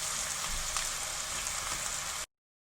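Vegetables for a pizza topping cooking in a pan, a steady, even sizzle with a soft crackling hiss that holds constant at moderate volume, then cuts off abruptly near the end.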